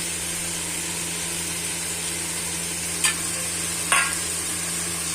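A pot of sundakkai kuzhambu sizzles steadily as chili and coriander powder are stirred in, with a constant low hum and two short scraping strokes near the end, no talking.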